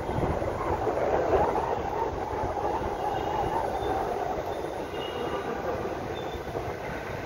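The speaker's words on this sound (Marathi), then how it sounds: "तर आता आपण आहोत कोल्हापूरच्या रेल्वे स्टेशनला, छत्रपती शाहू महाराज टर्मिनस" A train at Kolhapur's Chhatrapati Shahu Maharaj Terminus railway station rumbles steadily and loudly, with rolling wheel noise and a faint squeal.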